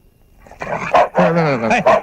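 A dog barks and yelps in several short, loud bursts close by, with a whining, voice-like tone between the barks.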